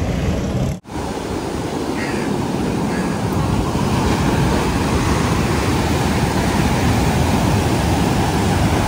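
Ocean surf at Kovalam beach in Kerala makes a loud, continuous broadband roar of breaking waves, steady throughout after a momentary dropout near the start, with no clear voices.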